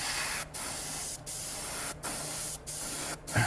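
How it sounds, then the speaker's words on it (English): An airbrush sprays paint in a steady hiss during a paint test for a 1956 Ford, broken by brief regular pauses as the trigger is released, close and even, with no talking. "I opened up the needle on my airbrush a little bit more,"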